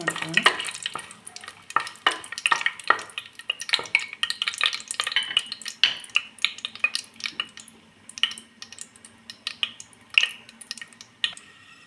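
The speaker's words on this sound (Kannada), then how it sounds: "ಎಣ್ಣೆ ಬಿಸಿಯಾಗಿದೆ, ಸ್ಪೈಸಸ್ ಹಾಕೊಳ್ಳೋಣ" Whole spices frying in hot oil for veg pulao, a crackling sizzle under repeated metal spoon stirs and scrapes against the pan, close and lively with irregular clinks.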